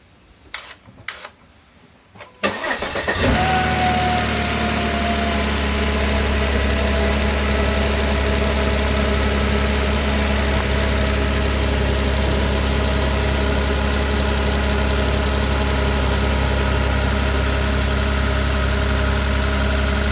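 A few soft clicks, then a Volvo car engine cranks and catches, settling into a steady, close idle that drones on without change.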